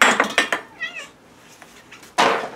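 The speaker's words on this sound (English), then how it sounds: "Please excuse my bad cat." A cat meows a couple of times, close by, with a short wavering cry in the middle and a louder burst near the end.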